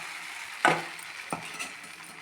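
Dosa batter sizzles on a hot pan with a steady soft hiss, marked by a sharp scrape or tap early on and a second lighter knock a little later, with no talking.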